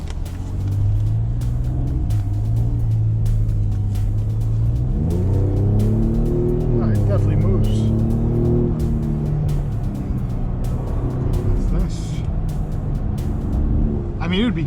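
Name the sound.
2019 Ford Raptor accelerating on highway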